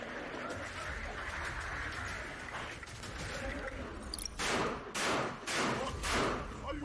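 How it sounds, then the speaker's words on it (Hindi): Gunfire during a Hamas attack on an IDF armoured vehicle, several heavy bursts in the closing seconds following a dense, noisy stretch, with a voice talking over the start. "यूनिट्स में हमास की आईडीएफ पर विध्वंसक फायरिंग।"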